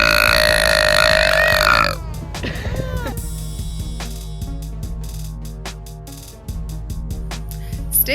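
A girl's loud, drawn-out burp sounds close to the mic, then trails into short gulps and a soft guttural sound, followed by quieter rustling and small clicks.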